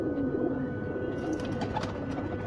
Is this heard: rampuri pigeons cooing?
yes